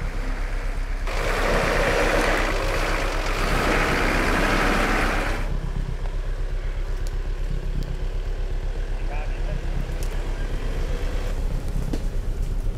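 A Nissan Patrol 4WD engine idles and labours at low revs while crawling through off-camber washouts on the Stoney Creek Track, a steady low rumble with a louder burst early on, as a voice talks over it.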